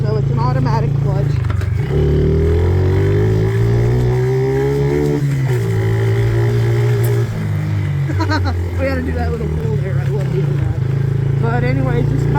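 A Yamaha 50cc automatic dirt bike engine drones steadily while riding, its pitch rising and falling with the throttle, loud and continuous beneath a rider talking throughout.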